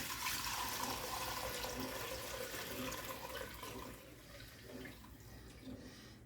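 Broth being strained out of a crock pot, a steady wash of pouring liquid that runs loud for about four seconds and then thins to softer trickles and splashes.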